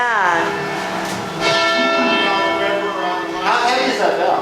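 A large, very heavy church bell rung high up in its tower at the stroke of midnight on New Year's, Jan 1, 2012; loud repeated strikes, each with a long shimmering hum, and voices faintly beneath.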